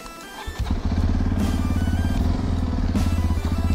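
A Hero Xpulse 210 motorcycle engine catches and settles into a loud, steady, throbbing run close by, with a low rhythmic chug and some mechanical clatter.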